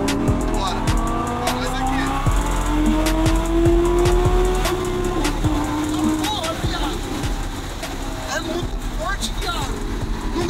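A Lamborghini engine revs and accelerates loudly nearby, with pitch climbing and falling through the gears and sharp bursts on top, as people talk over it.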